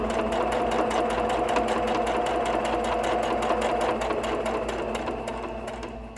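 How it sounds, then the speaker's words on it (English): Sewing machine stitching fabric for a sunglasses case, a steady rapid needle whir running continuously and close up, easing off slightly in the last second. "Put your presser foot back down and sew."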